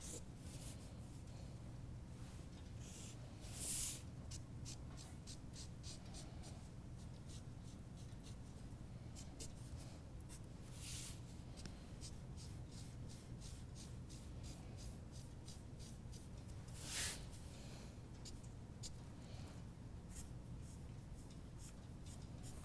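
A pencil traces lines and notches on pattern paper, giving soft, faint scratching strokes in short repeated bursts with a few brief louder rubs, close to the microphone.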